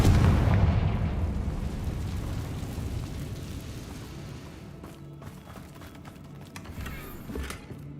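A heavy blast from the Confringo fire spell in the Hogwarts Legacy video game booms loudly at first, then rumbles and fades away over several seconds.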